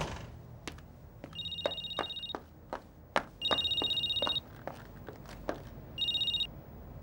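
A telephone rings in three electronic trilling bursts, each about a second long and separated by gaps, with scattered clicks and thumps of movement between the rings.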